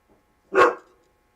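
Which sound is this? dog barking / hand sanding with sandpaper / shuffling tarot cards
dog barking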